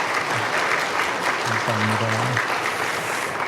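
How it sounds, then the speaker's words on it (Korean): Church congregation at a Sunday service applauds to welcome a visiting guest pastor, steady even clapping filling the room throughout while someone speaks briefly over it. "우리 한번 박수로 환영하겠습니다."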